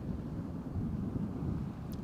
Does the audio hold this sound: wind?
yes